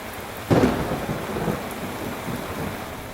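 A sharp, close crack of thunder breaks over steady heavy rain during a thunderstorm in a town on Route 66, then rumbles off as the downpour continues.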